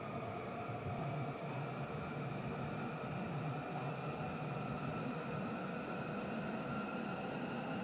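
A train in a train driving video game runs steadily, giving a continuous rail rumble with faint high wheel squeal and humming tones throughout, no voices.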